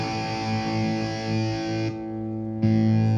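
A distorted electric guitar on a Line 6 Helix Stadium lead tone plays through an Atomic wedge speaker. A thick chord sustains, briefly thins out, then comes back stronger on a louder new note, with no voices.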